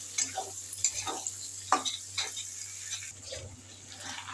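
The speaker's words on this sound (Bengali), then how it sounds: "চিংড়ি মাছটা আর পেঁয়াজটা আরও ভালো করে ভেজে নেব।" Prawns and onion frying in a pan, with soft sizzling and intermittent scraping stirs throughout, no speech.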